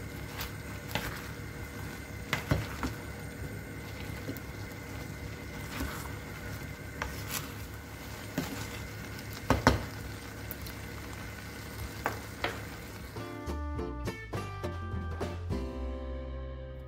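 Steady sizzling and bubbling of apples frying in a pan to cook off their juice, with occasional louder pops and clinks, ending in a brief metallic clatter.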